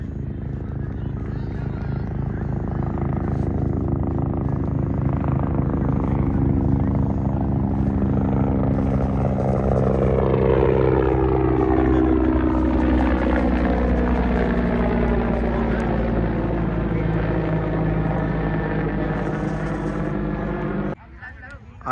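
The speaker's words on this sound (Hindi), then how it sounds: "कहीं हवाई जहाज आता हुआ, ये देखिए।" Propeller aircraft passing overhead during a club kite-fighting match, its loud droning engine swelling and shifting pitch as it approaches and goes by, with a commentator talking throughout.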